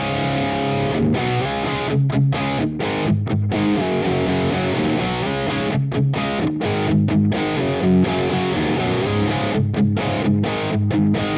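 Electric guitar through a driven amp channel 2 at lower gain, played into Headfirst DynIR cabinet impulses: crunchy, mildly distorted chords and riffs ring out steadily with brief rhythmic gaps between strums.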